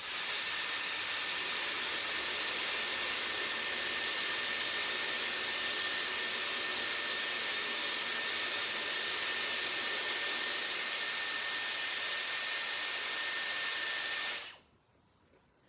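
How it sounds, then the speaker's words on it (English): A Dyson Airwrap hair styler blows a steady, loud rush of air on its cold burst setting for about fourteen seconds, then cuts off abruptly into near silence. "So turn it on and do your cold burst at the end."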